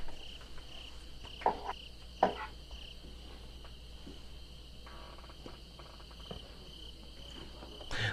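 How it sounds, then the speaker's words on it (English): A soft hedge maze ambience sound effect: a constant bed of crickets chirping in the night, with a couple of faint thumps and rustles partway through. "That is the sound of the hedge maze."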